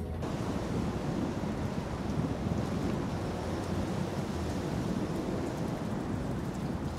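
Strong wind roars steadily and loudly, a broad rushing noise with low rumbling gusts and no speech, on a sailing trip to Kythnos.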